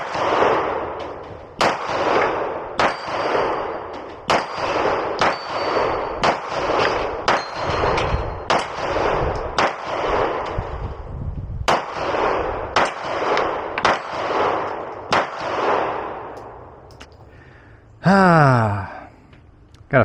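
A Beretta APX pistol fires at targets on a range, a long series of sharp, loud, closely miked gunshots at a steady, fairly quick pace, followed near the end by a short rising mechanical whine.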